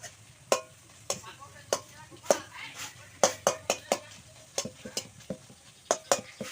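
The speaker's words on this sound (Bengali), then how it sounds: "একটু কাঁচা তেল দিয়ে নেড়ে দেওয়া হচ্ছে।" Okra and potato curry being stirred in a pan with a little raw oil, a spoon knocking and scraping against the metal in a quick series of sharp clicks, with faint sizzling underneath.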